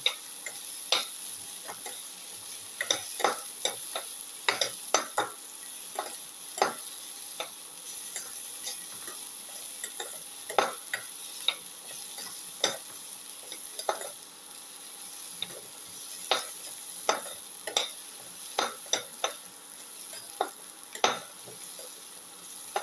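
Onion, garlic and shallot sauté in a pan, a steady faint sizzle under repeated sharp clicks and scrapes of a utensil stirring, irregular taps spread across the whole stretch with no talking.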